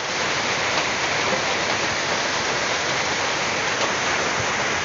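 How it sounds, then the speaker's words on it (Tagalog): Heavy rain pours steadily onto a house under construction, a dense, loud, unbroken hiss with no pauses throughout. "Lumalakas ang ulan."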